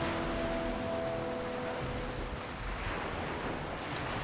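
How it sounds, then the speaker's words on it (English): Ocean waves in the Nancy Drew game The Creature of Kapu Cave: a steady, soft wash of surf and wind, with a faint tonal hum early on and no speech. "Man, those ocean waves are lovely."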